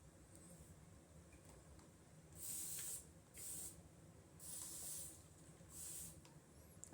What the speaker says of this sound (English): I love this continuous spray bottle.